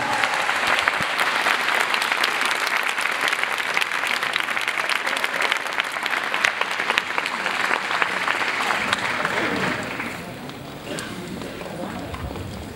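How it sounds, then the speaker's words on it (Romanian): A large audience at a university graduation ceremony applauds in a loud, dense, continuous wash of clapping that fades to a quieter patter in the last few seconds. "Mai încercăm un rând de aplauze"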